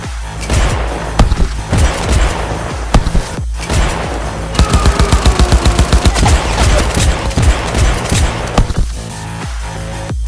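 Loud gunfire in a Cyberpunk 2077 fan film: heavy booming shots early on, then a rapid, evenly spaced automatic burst in the middle, with thuds and dense action noise around them and no talking.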